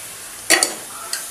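Mutton pieces sautéing in oil in a pan, with a steady low sizzle and a couple of sharp scraping stirs of a spoon close by, then a quieter clink.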